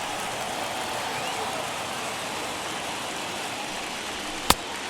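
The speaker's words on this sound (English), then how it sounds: "I don't know how much more rain this field can take" Steady, dense rain hisses over a baseball field in an MLB video game, a constant wash of noise. It is broken near the end by one sharp crack.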